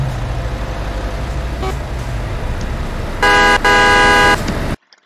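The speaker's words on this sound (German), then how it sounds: "Die Hupe mag ich nicht wirklich so" Truck horn in Euro Truck Simulator 2 on a road toward Minsk, Belarus, giving two loud, steady blasts with a short gap between them over the engine and road hum, followed by a sudden drop to near silence.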